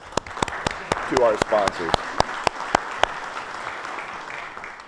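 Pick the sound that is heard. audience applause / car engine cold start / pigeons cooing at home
audience applause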